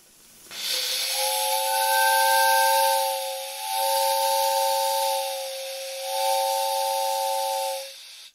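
A three-chime 40mm steam whistle blown with steam at 7.5 bar gives a steady harmonious multi-tone chord over a strong hiss, sounded in three long blasts that swell and dip in loudness before cutting off.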